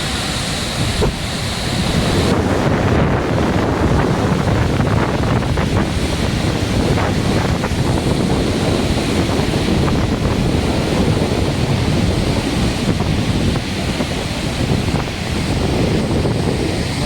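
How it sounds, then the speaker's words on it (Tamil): Athirapalli waterfall in Kerala thunders with a constant, dense roar of falling water and blowing spray, loud and close, with wind buffeting the microphone. "இதில் வந்து விழுகிறப்ப இவ்வளோ ஒரு சாரல் இவ்வளோ உயரத்துக்கு அடிக்குது"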